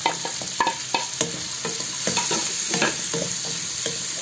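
Chopped green chili, onion and garlic frying in oil rendered from fried fish, stirred with repeated scraping strokes over a steady crackling sizzle, close and loud with no voices.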